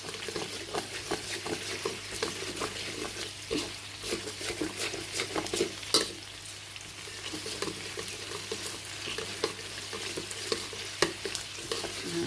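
Curry paste with chili, garlic and lemongrass stir-frying in a pan for pork ribs: a steady close sizzle broken by frequent scraping stir strokes, with no talking.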